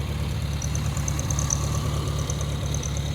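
A 1970 VW Bug engine idles nearby with a steady, low, rumbling putter. The rhythmic pulsing holds even throughout, and no one talks.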